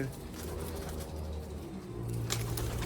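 Black-faced Sialkoti pigeons coo in a steady low run, close and continuous, with a faint voice briefly audible beneath the calls.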